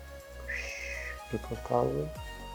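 A cat meows close by, with two or three short, bright cries heard alongside someone speaking.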